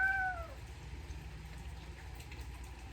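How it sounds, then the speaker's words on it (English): A cat gives one short meow at the very start, then a low, steady background hum continues without further calls. "Cat."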